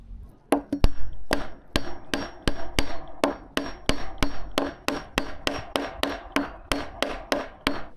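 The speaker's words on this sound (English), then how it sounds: "I just need to put those wedges in" Steady, repeated hammer blows driving 9-degree wooden wedges into a timber swing frame, about two or three per second, sharp and close with no talking.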